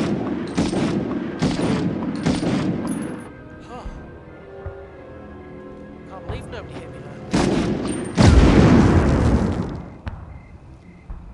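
Medal of Honor (1999) gunfire comes as a rapid volley of sharp shots, then a quieter pause with faint tones, then renewed loud bursts and a heavy blast, with a voice talking through parts of it.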